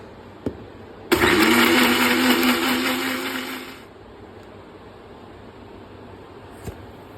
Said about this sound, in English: We added neem, eucalyptus, and citronella in the blender with 100 ml of water.